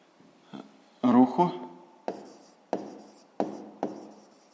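Pen scratching out an answer by hand for a sixth-grade math exercise, a brief burst of writing followed by several distinct tapping strokes, close and moderately quiet with no talk.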